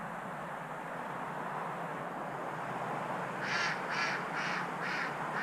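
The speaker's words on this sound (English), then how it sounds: "There's a duck. You can hear it in the background." A duck quacks in the background on a farm property near a waterway, a series of about five evenly spaced quacks rising over steady outdoor noise in the latter half.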